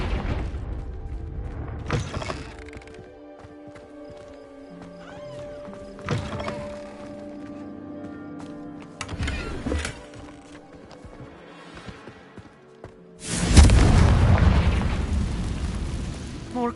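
Confringo fire spell from Hogwarts Legacy bursting into a loud, broadband explosion near the end, preceded by several sharper magical pops and impacts over ambient game music.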